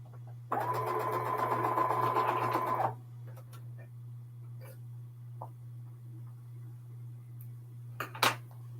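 A sewing machine stitching a quilt seam for a pinwheel block runs in one steady, buzzing burst of about two and a half seconds, then stops, leaving a constant low electrical hum and a few scattered faint clicks.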